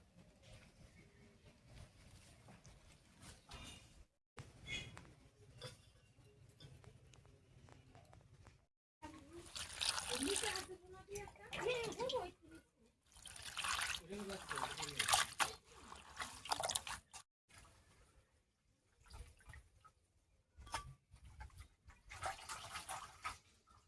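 Jute leaves being washed in water give intermittent splashing and trickling, with louder bursts of sloshing in the middle and quieter gaps between.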